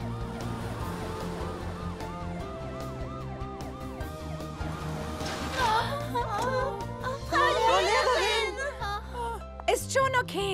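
A cartoon ambulance siren wails in a repeating rising and falling pattern over music, growing louder and busier toward the end.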